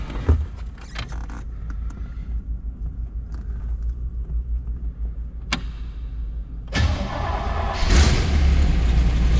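A 1962 Fuelie car with a 4-speed sits quiet through scattered clicks and rustles, then its engine catches about two-thirds of the way in and settles into a loud, steady, close rumble.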